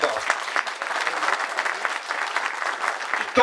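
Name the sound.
audience applause at a victory celebration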